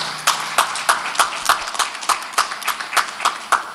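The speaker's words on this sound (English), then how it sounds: "Can we give him a round of applause," Rhythmic clapping at a COVID-19 vaccination programme inauguration, evenly spaced sharp claps about every third of a second, fairly close and steady with little crowd noise.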